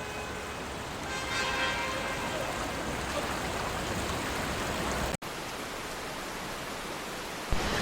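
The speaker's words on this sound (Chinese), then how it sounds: "看看这道上这水，哇哇的呀，这过不来了，快到膝盖了" Floodwater rushing across a road swamped after heavy rain, a dense continuous roar close by that holds steady, with a brief break and a bump near the end.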